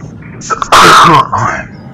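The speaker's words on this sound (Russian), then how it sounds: "Сорян, чих какой-то напал." A single loud, close sneeze bursts out sharply for about half a second, set against a quiet low background hum with a few faint breathy sounds before and after.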